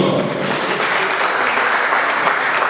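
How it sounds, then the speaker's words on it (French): Students in the audience at a Vodacom and itel press conference in South Kivu break into applause, a full, even wash of many hands clapping that holds steady throughout. "Les étudiants, est-ce qu'on peut applaudir?"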